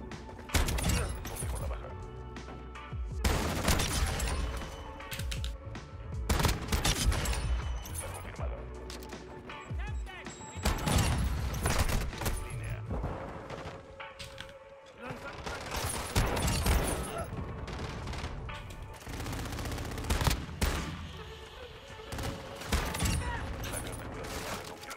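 Shotgun blasts from a video game boom repeatedly in loud clusters over a long stretch, broken by crashes and brief lulls between the volleys.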